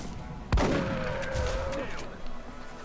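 A single sharp gunshot cracks in XCOM: Enemy Unknown as a soldier runs and guns, followed by a fading whine and tail, with faint rumble behind.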